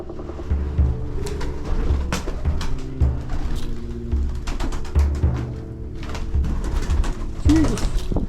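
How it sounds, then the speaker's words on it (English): Pigeons coo and flutter at close range in a care home, their calls repeating over a steady low rumble, with scattered sharp knocks and wingbeats. "birds everywhere"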